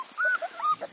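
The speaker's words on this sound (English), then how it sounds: "Abby Dabby Dog's puppies" Beagle puppies whimpering close by, a quick run of thin high-pitched whines and yips rising and falling over about a second, fairly soft with no voices.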